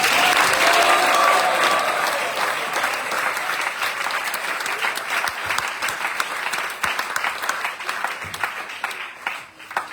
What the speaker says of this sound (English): So please give them another big round of applause.